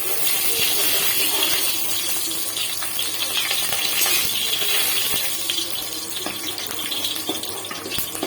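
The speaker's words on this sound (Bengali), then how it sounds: "এখন কড়াইয়ের মধ্যে দিয়ে দেবো শুকনো লঙ্কা ফোড়ন আর কালো জিরে ফোড়ন" Dried red chillies and nigella seeds sizzle in hot oil in a wok, a loud steady hiss and crackle heard close throughout.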